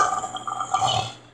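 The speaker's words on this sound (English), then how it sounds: "Okay, double burp time." A double burp from a child, two throaty belches close to the mic with a brief pause between them, short and fairly loud with no talk over them.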